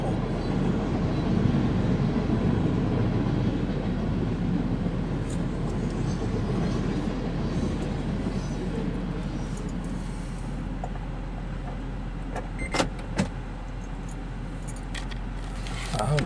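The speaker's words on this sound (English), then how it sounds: "There was two trains coming." Two trains pass at the same time, a steady, heavy rail rumble that fills the whole stretch, with faint rattling and clanking near the end.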